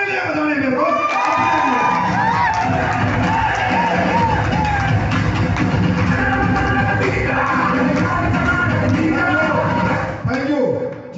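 A large, loud crowd erupts in cheering, whooping and shouting, a dense roar of many voices with clapping buried beneath, sustained throughout before briefly dipping near the end.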